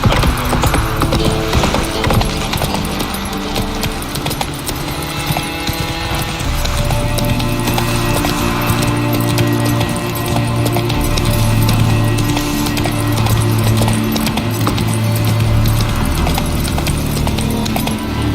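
Horse hooves clip-clopping steadily on ground in The Witcher 3, a continuous rhythmic gait under game music and ambience, with someone speaking briefly.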